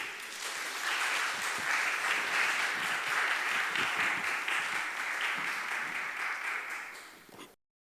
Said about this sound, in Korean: 여러분의 큰 박수와 함께 시작하겠습니다